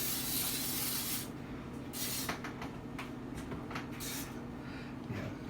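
An aerosol can of cooking spray hisses in a long spray, then several shorter bursts, close up, greasing a cake pan, with no talking.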